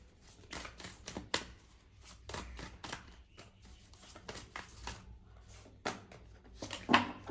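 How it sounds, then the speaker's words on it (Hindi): Tarot cards are shuffled in a quiet room, a long run of soft, irregular riffling and slapping bursts close by, with no talking. "अच्छे से शफल कर लेते हैं पहले कार्ड्स को।"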